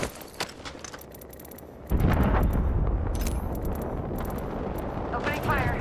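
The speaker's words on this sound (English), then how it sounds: "Opening fire." Heavy bursts of gunfire in the battle royale game Apex Legends, a few sharp shots at first, then a dense loud barrage that keeps rolling with explosive rumble, with voices talking over it.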